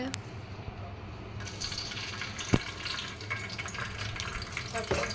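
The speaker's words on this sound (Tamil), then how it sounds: "அது கூட கடுகு உளுத்தம் பருப்பும் போட்டுக்கோங்க." Mustard seeds and urad dal sizzling and crackling in hot coconut oil, a steady close frying hiss with a few sharp pops scattered throughout.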